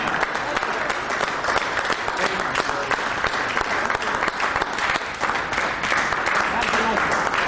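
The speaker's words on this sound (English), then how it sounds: "let's have a round of applause for Bill Thornton" An audience applauds speaker Bill Thornton after a common law talk, a dense, steady burst of clapping that stays loud and even throughout.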